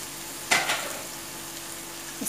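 Onions and chillies fry in a pan with a low, steady sizzle. A couple of brief stirring scrapes break through near the start and again at the end.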